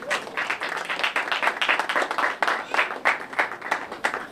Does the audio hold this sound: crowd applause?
yes